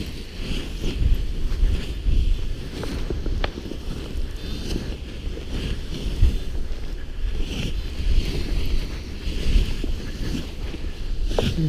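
Strong gusts roar across a paraglider wing and microphone at a windy launch site, a constant close buffeting rush with flapping fabric and no talking.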